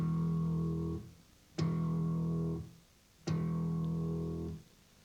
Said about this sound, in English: You should hear a click followed by a clear bell-like tone.